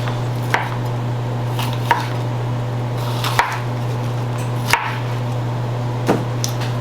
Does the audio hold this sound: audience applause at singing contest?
no